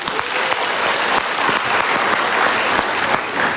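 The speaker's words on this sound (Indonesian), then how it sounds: "Kita berikan tepuk tangan dulu." A studio audience at a motivational talk show bursts into steady, loud applause, dense clapping throughout with no voices over it.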